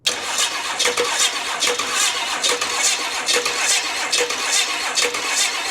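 Engine of a 1960 Pontiac wagon that sat for 34 years, with injectors just bled, cranking in a fast rhythmic chug close by, loud and steady without catching into an idle.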